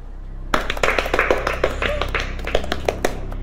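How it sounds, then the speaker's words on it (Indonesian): A classroom of students claps to welcome a new pupil, beginning abruptly and going on as a close, lively patter of hand claps with a few sharper individual slaps. "Tepuk tangan."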